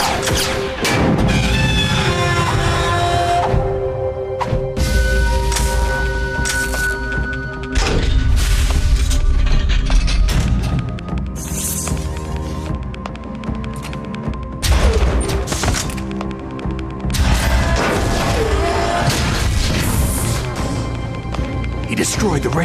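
Explosions destroying a radome in the Metal Gear Solid game: loud booms, crashes and thuds over a busy game score, with several heavy hits across the clip.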